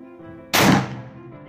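A Bushbuck Carbine .45 air rifle, filled to 250 bar, fires a single loud shot, a sharp close blast with a short decaying tail over a faint background hum.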